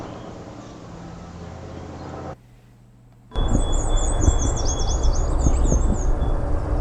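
Bird calls warble and chirp over heavy, rumbling background noise, following a stretch of steady hum and a brief quiet gap.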